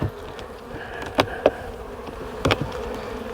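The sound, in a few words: honeybees buzzing around a hive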